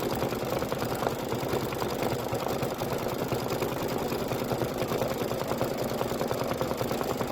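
An embroidery machine stitching a decorative flower outline in dark gray thread on a quilt block, a fast steady mechanical whirring with rapid needle ticks that runs continuously and evenly, close by, with no voices.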